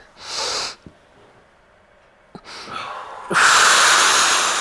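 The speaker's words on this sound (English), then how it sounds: "Remember, use that sniff to get a little more inhale and support for your back." Sharp sniffing inhales and breaths during a Pilates mat exercise, in several separate bursts with pauses between, the last one longer and louder, close up with no talk.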